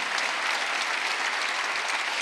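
A church congregation claps steadily during a Wednesday worship sermon, a dense, even wash of applause filling the room without pause and with no voices standing out.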